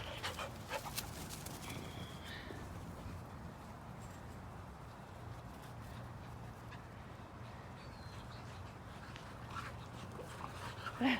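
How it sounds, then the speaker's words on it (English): Several dogs and puppies playing fetch outdoors pant and shuffle faintly, with scattered light clicks and a soft whimper over steady background noise. "They run over little puppies."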